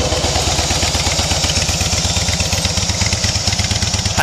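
A 2010 Harley-Davidson FLSTF Fat Boy sits idling with a deep, loping, evenly pulsing rumble close up, the beat steady and loud throughout with no one speaking.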